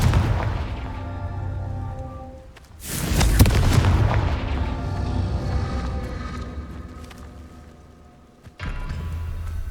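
A Confringo blast spell goes off in the game Hogwarts Legacy with a sudden heavy boom that swells and then decays slowly over several seconds. A second, sharper burst cuts in near the end.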